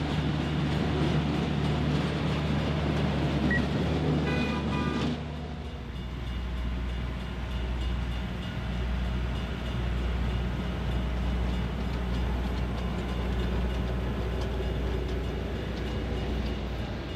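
Railroad track maintenance machines roll along rails during a rail replacement job, a steady low mechanical rumble and rattle that shifts after a few seconds and continues throughout, fairly close, with no talk.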